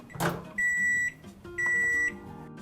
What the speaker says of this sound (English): Let's get this into the microwave.